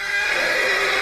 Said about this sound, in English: it's the sound of a horse neighing and